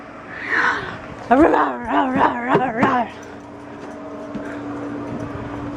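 A young dog lets out a run of high, wavering whimpers and yips close by, then goes quiet against a soft background hum.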